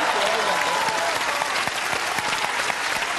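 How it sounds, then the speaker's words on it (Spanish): A studio audience on a Chilean TV comedy talk show breaks into loud, dense applause that holds steady throughout, with voices faintly mixed in. "Un aplauso."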